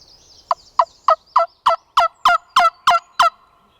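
A wild turkey gobbles in Alabama woods near a logging road, letting out about ten loud, close, rapid rattling bursts in a quick even rhythm, with no voices.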